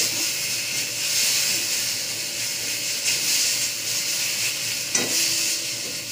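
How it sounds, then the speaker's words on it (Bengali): Ginger, garlic and green chilli paste with cumin sizzles steadily in hot oil for a pomfret fish curry, a continuous close frying hiss with occasional stirring scrapes and one sharp clatter near the end; no voices. "এখন মশলাটা ভাজা ভাজা হয়ে এসছে"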